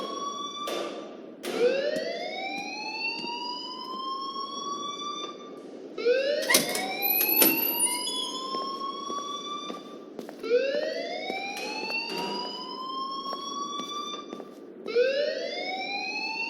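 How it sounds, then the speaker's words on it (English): A repeating alarm in the game Life is Strange rises in four long upward-sweeping wails, each climbing and then cutting off, with brief clicks between, loud and steady with no talking. "please turn off that alarm since that's your job"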